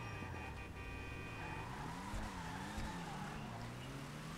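A car in GTA 5 pulls away from a standing start, a steady synthetic engine drone rising and falling in pitch as it gains speed, with a faint squeal of tyres throughout and no talking.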